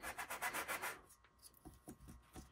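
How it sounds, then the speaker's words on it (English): Quick rhythmic strokes of a sanding block rub the rough edges of a small wood blank, a burst of about eight close scratchy passes followed by softer, scattered strokes. "Get your sanding block and just kind of sand off any of those rough edges."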